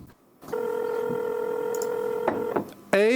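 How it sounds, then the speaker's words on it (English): A telephone call is placed: a short keypress tone, a long steady dial tone, a couple of quick button beeps, then the start of a warbling ring, all clear and close. "Emily calls Amy on the phone."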